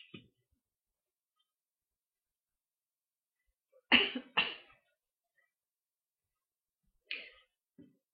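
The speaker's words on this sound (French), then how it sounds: "Excusez-moi pour ma toux." A woman coughs in a quiet room, a sharp double cough followed a few seconds later by a single softer cough and a faint throat sound.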